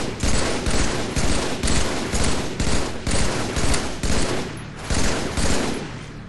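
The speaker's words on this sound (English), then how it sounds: "while he's shooting at Arbiter, go ahead and take him out" Sustained automatic gunfire from the video game Halo 3, loud and close, firing in rapid bursts of about half a second each with short gaps between them, with no talking over it.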